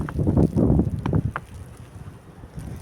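Gusty early-winter wind buffets the microphone in a garden in low rumbling bursts, easing off toward the end.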